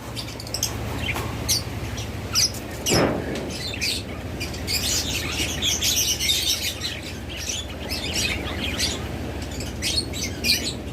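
A pair of rainbow budgerigars chirps and twitters continuously close by, quick bright calls overlapping with a brief flutter, no talking.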